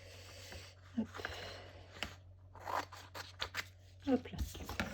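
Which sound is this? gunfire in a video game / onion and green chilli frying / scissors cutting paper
scissors cutting paper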